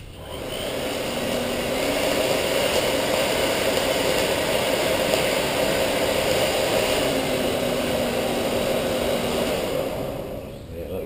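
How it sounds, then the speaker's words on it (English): A forge blower for knife making runs as a steady, loud rushing whoosh of air that swells up within the first second, holds for about ten seconds and tapers off at the end. "let's try out the blower"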